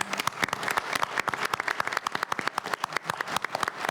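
Audience applause at a board of directors meeting: dense, steady clapping from a room of people, continuous and fairly close throughout.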